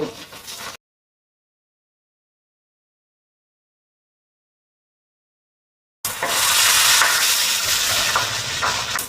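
Pieces of fish, belly cuts among them, fry in hot oil in a pan. After a brief opening burst and several seconds of silence, a loud, close, continuous hissing sizzle returns and holds steady.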